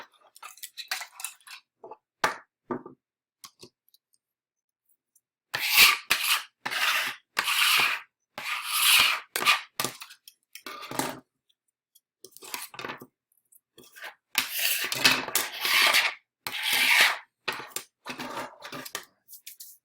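Small plastic ridge being trimmed with a cutting tool while assembling a Freeplay Zero handheld, heard as close, intermittent snipping and scraping bursts in irregular clusters with quiet gaps between.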